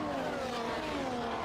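F1 race cars in F1 24 on the Saudi Arabia circuit give a steady, high, buzzing engine drone, held at an even level with no talk.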